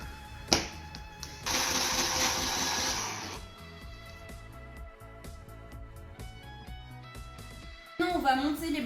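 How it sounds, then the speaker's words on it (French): A kitchen mixer whirs in one loud burst of about two seconds, blending icing sugar and almond powder for macarons, with quieter kitchen handling and talking around it. "Donc là on va mixer ensemble le sucre glace et la poudre d'amande."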